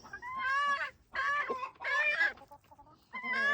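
Hens clucking in short, repeated bursts with brief pauses between, fairly close and clear, no talking.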